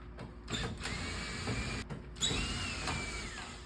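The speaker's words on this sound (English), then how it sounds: "So I'm gonna keep taking screws out." A power drill or screwdriver removes screws from Dexter stacked dryers that have gone eight years uncleaned, whirring steadily in close bursts with a rising whine as the screws spin out.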